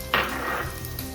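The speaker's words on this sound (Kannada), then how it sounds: "ಅವೆಲ್ಲ ಈ ನೀರುಳ್ಳಿ ದೊಟ್ಟಿಗೆ ಫ್ರೈ ಮಂತೊಂದು." Green chillies frying with onions in hot oil, heard as a close, steady sizzle that flares briefly with a brighter crackle near the start and then settles into an even hiss, with no voices.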